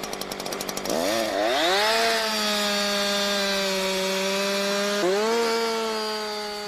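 A chainsaw revs up and then cuts steadily through wood, its loud droning whine holding a constant pitch, with a brief throttle dip near the end.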